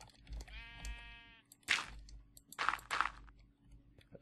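Minecraft sheep bleating: a short wavering bleat, then two louder, harsher bleats close together, standing alone against a low steady game-ambience hum.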